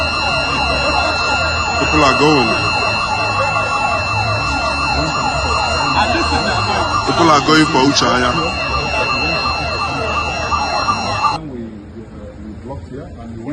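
An emergency siren wails continuously and loudly over constant crowd noise and people talking, its steady tone cutting off abruptly near the end while the background voices carry on.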